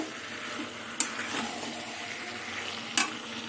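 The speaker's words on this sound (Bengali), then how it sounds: "মশলা দিয়ে চিংড়ি মাছ দিয়ে ভালো করে আলু এঁচো কষিয়ে নেব" Jackfruit, potato and prawns are sautéed and stirred with spices in a wok, giving a steady low sizzle broken by two sharp scrapes of a spatula against the pan.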